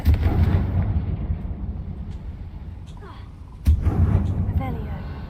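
In Hogwarts Legacy, Confringo fire spells burst in the castle with two heavy booming blasts, the second sharper and louder, each trailing into rumble, with faint game effects between them.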